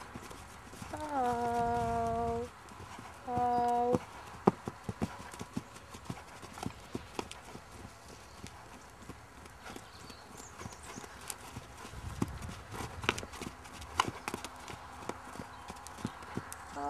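A horse at a stud farm moves at trot and walk, its hooves giving a long run of clip-clop beats. The steps are fairly near and loud, with a tonal neigh-like call early on and brief voices at points.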